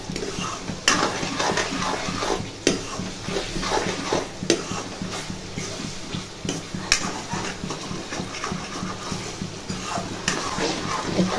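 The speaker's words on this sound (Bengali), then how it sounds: "এখন পেঁয়াজ আর টমেটো দিয়ে কষিয়ে নিচ্ছি।" Onions and tomatoes cook in a pan, with a soft steady sizzle beneath repeated scraping and clinking as a utensil stirs the mixture against the pan.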